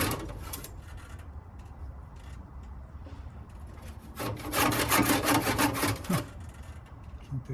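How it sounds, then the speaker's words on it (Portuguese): A handsaw is forced through thick timber for a floating kiosk build. It makes a rasping sound in uneven strokes, with quieter strokes at first and then a burst of loud, fast strokes near the end. "agora eu tenho que fazer um pouquinho de força aqui com o serrote"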